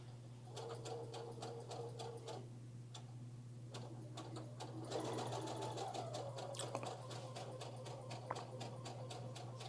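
A sewing machine stitches fabric in quiet, rhythmic bursts of rapid ticking and whirring, pausing briefly between runs, with no one speaking.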